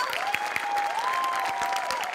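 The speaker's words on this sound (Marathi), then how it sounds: "जोरदार टाळ्या" Loud, sustained applause from a studio audience at a Marathi comedy show celebration, a steady wash of clapping under a faint musical tone, with no talk.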